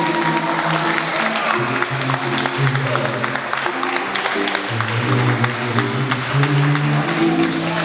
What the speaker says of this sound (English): Let's give a round of applause for Claire.